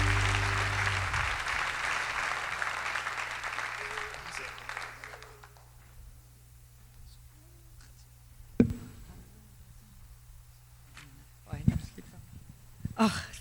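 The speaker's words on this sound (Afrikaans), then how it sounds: "Kom ons gee vir Lindy 'n lekker hande klap." Audience applause for Lindy at an Afrikaans music show with an orchestra, loud clapping at the start that fades out within a few seconds, followed by a quieter stretch with talk and a sustained low tone.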